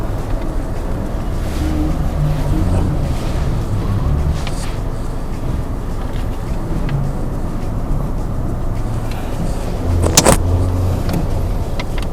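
A 2018 Nissan March 1.2 hatchback's engine hums steadily at low speed while reversing, a continuous rumble with a brief louder bump near the end, no voices.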